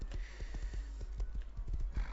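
A horse in the Rust survival video game trots with steady, quick hoof clip-clops over a dense low rumbling background, continuous and close throughout.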